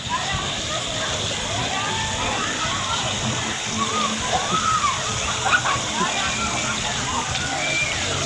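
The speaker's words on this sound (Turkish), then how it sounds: "Su atıyor oradan su." Water sprays and splashes steadily at an aqua park, a constant rushing hiss with sloshing close by that holds even throughout, with children's voices and calls mixed in under it.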